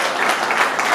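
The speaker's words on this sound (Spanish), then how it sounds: "Un aplauso para mi hijo." A brief burst of audience applause at the close of a live music show, a dense, even patter of many hands clapping heard for under a second.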